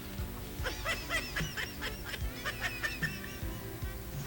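Waterfowl call repeatedly from just behind the person. A series of nasal honking quacks comes in uneven bursts over low background noise, fairly close and clear.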